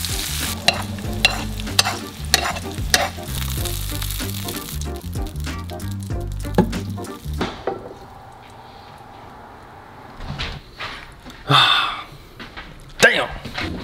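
Fish basting in a frying pan with plenty of butter: loud rhythmic spoon scrapes and bubbling sizzle for several seconds, then softer sizzling with occasional clatters, while people talk over it.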